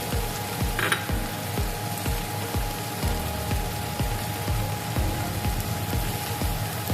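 Chopped tomato sizzles in a hot pan for a Bengali small-fish chorchori curry, a loud continuous hiss cut by regular, evenly spaced knocks of stirring.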